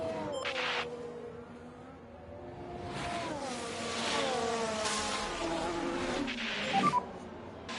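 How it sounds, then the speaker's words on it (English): Racing cars leave the pit exit in the video game F1 Manager 24, their engines whining and rising in pitch as they accelerate away, at moderate level amid game ambience. "Could be racing cars pit exit."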